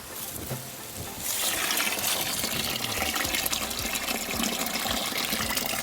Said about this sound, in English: we're gonna go one more time with the water winnowing